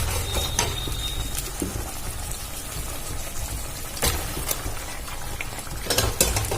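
Spice paste for a Bengali pointed gourd curry sizzling in a pan while a spatula scrapes and stirs it, a steady frying hiss with sharp clicks of the utensil against the pan.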